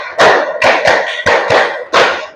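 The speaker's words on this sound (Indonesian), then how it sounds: "2 kali tepuk 5." Students in a classroom concentration game clap together, six crisp, close hand claps in an uneven rhythm of pairs and singles, loud and clear, with no voices over them.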